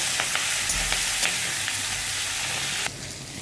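Steady sizzling of eggplant and onion frying in a pan, with occasional stirring clinks and scrapes; the sizzle drops quieter near the end.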